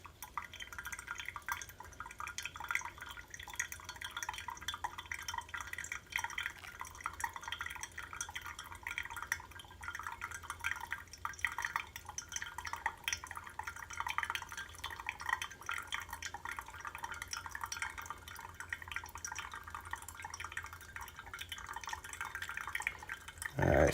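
Brewed coffee drips and trickles steadily through a Hario V60 pour-over dripper filled from an electric kettle, a soft continuous wet patter with faint glassy tones, close and quiet.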